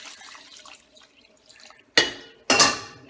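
Water from a carrot bowl splashes into a pot of scouse stew in two short, close pours near the end, after a quieter stretch of faint kitchen sounds.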